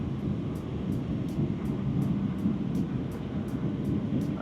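Steady, loud roar of a passenger airplane cabin during landing approach into Oslo, Norway, a broad continuous engine and airflow rumble with faint regular ticking over it, no talking.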